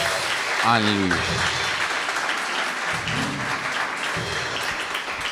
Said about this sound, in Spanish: ¿Cuántos dicen amén y le dan un aplauso grande a papá?